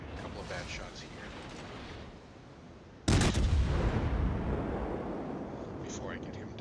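A naval warship fires its guns in a video game, a sudden heavy boom midway followed by a sustained rumbling roar, over a lower hum of background noise with a voice talking under it.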